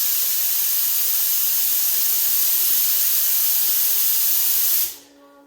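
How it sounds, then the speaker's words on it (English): A steady, loud hiss of a low-pressure spray gun spraying 2-pack PU lacquer on doors runs continuously for several seconds, then cuts off abruptly, leaving a quiet hum. "with this gun I'm spraying with very low pressure"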